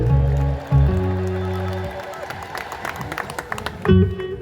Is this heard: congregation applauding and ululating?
yes